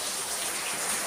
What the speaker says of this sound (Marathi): बघा पाऊस आला